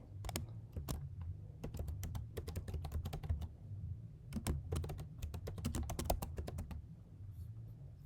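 Close computer keyboard typing in irregular bursts of crisp key clicks, with brief pauses between runs of keystrokes, while a title is entered for a gift card setup.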